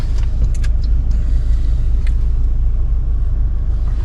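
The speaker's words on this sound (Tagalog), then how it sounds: "Traffic pa na busy." Busy road traffic rumbles past on a winter day in Australia, a loud, steady low drone of passing cars with faint higher clinks on top.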